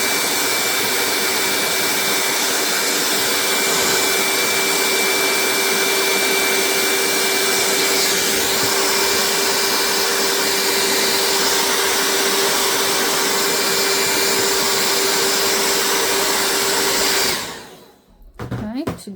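A heat gun blows hot air onto a notebook part, a loud, steady roaring whoosh with a constant whine held close for about seventeen seconds before it is switched off and winds down.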